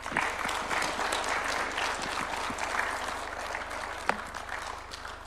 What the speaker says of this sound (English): Another round of applause for His Excellency.